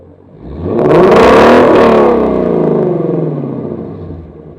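Ford Shelby GT350 V8 with an X-pipe and resonator delete revving to about 4,000 RPM, a loud, close exhaust roar that swells quickly, holds steady, then eases off with no speech.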